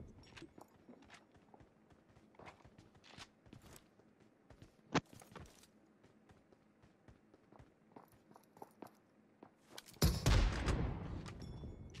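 Gunfire in PUBG Mobile: scattered faint shots and footstep-like taps, then a loud close burst of heavy fire near the end.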